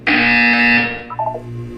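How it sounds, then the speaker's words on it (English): A harsh electronic buzzer sounds once in the video game Portal 2, a loud, tonal blast that holds for under a second before cutting off, followed by a faint brief tone. "You will hear a buzzer."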